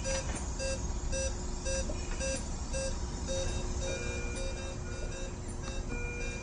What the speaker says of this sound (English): Looks like we have an alarm going off.